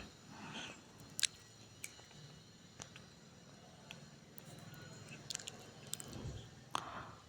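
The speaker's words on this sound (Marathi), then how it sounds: "आता आपण वरून लिंबू पिळून घेऊया आणि तो सुद्धा व्यवस्थित असं मास्यांना लावून घेऊया" Lemon is squeezed over whole pomfret fish coated in salt and turmeric and rubbed into the flesh, giving faint, close, wet squishing and a few soft clicks in a quiet kitchen.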